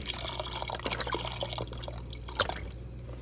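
Beef broth pours into a stew pot with splashing, trickling liquid and small drips over a steady low kitchen hum, close and moderately loud.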